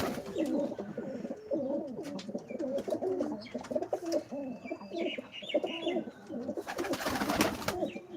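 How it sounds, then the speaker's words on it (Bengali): Male pigeons coo continuously in low, throaty warbling calls close by, with a burst of rustling or wing flapping near the end. "আর এই পাশে কিছু কবুতর আছে"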